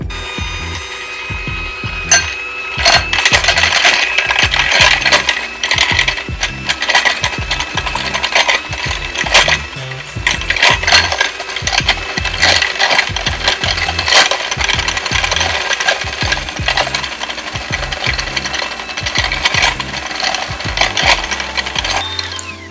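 An electric hand mixer whips a shea butter mixture in a bowl, giving a loud, continuous whirring and rattling grind with uneven surges and knocks as the beaters churn, with no speech.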